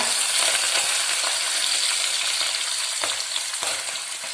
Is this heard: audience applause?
no